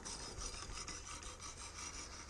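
A knife is drawn over ceramic stones on a Wicked Edge sharpener, making a quiet, continuous rasping scrape in close, rhythmic strokes with no voices.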